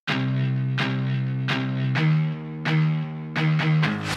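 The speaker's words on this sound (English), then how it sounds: "Add a distorted bass guitar." A distorted bass guitar in a future bass track plays a series of gritty, sustained low notes, each struck with a sharp attack, loud and alone with no voice over it.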